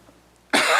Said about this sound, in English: Again, I apologize for my cough.